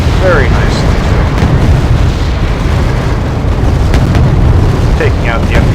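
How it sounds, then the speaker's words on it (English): Explosions blowing up enemy artillery in the video game Sir Spamalot, loud booming blasts rumbling over continuous battle noise, with a few sharp bursts and pops scattered through. "Taking out the enemy artillery. Boom!"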